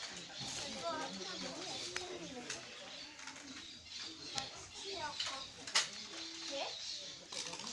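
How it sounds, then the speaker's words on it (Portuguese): Small birds chirping and pigeons cooing close by, a busy, continuous layer of calls with faint voices in the background. "Será que sai no vídeo o barulho dos passarinhos?"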